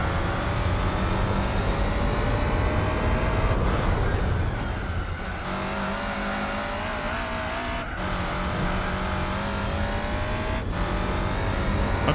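A race car engine in the Gran Turismo 4 video game drones loudly and continuously, with shifts in pitch as it accelerates and changes gear and a brief tire squeal, and no voices.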